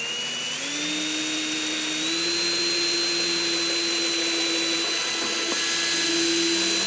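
Small bit drilling into the body of a Grand Design Momentum 376TH RV, a steady whining drill motor held at speed with a slight rise in pitch, close and loud with no talk.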